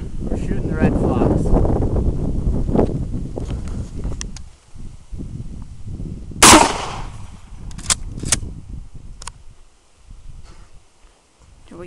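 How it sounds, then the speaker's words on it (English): A single sharp rifle-like gunshot crack during a red fox hunt, loud and close, preceded by outdoor wind and low voices and followed by quieter rustling and faint clicks. "Today, we're shooting the red fox."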